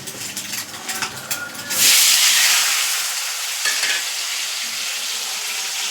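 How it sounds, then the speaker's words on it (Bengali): Onions hit hot oil in a pan and erupt into a loud, close sizzle that rises sharply partway through, then settles into a steady hiss. Clattering utensil sounds come before it, and no one speaks. "আর তেল বসিয়েছি পেঁয়াজটা ভাজবো"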